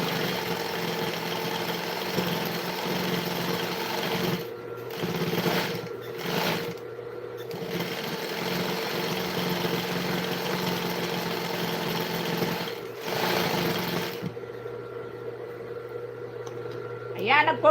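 A sewing machine stitches steadily through most of the stretch, its mechanical hum pausing briefly a few times before stopping near the end, with a voice talking faintly alongside.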